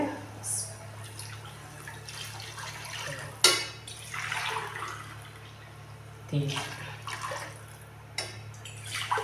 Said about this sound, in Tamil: நாலு கிளாஸ் தண்ணி சேர்க்குறேன்